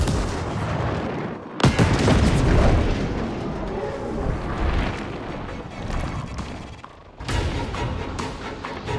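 A rocket barrage and explosions in Gears Tactics, heavy booming blasts striking twice with sharp loud onsets and rumbling tails over dense battle noise, and no talk.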